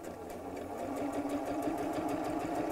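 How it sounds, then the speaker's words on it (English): A sewing machine runs a small straight stitch on fabric for a baby nest, giving a close, fast, evenly pulsing mechanical whir that holds steady throughout. "And use quite a small straight stitch."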